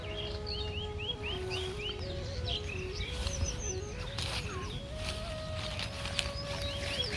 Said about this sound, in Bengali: পাখির কিচিরমিচির শব্দ তো আপনারা হয়তো ফোনেই শুনতে পাচ্ছেন।